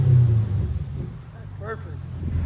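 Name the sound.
Cadillac CTS-V 6.2L V8 engine with exhaust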